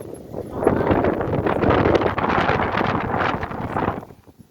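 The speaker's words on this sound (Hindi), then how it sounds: "एक तो पहाड़, फिर इतनी तेज हवा।" Strong wind blasts on a mountainside, a loud continuous roaring gust buffeting the microphone for several seconds before easing off at the end, with no talking.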